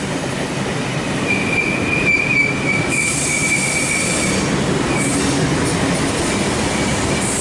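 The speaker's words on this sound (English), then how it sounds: "We have a V set arriving on platform number 2, Mount Victoria service." A Sydney V set train pulls into a platform at Parramatta, rumbling loudly and steadily with wheel squeal rising above the rolling noise and brief high hissing bursts, heard close with no talk.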